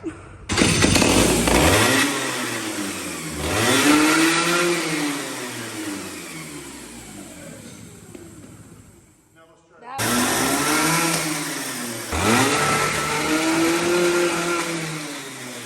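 A Rotax Max racing kart engine revs hard in repeated rising and falling sweeps, loud and close, with a brief cut-off and then a restart into more throttle blips.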